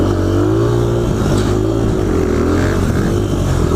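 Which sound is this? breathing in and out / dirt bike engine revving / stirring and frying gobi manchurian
dirt bike engine revving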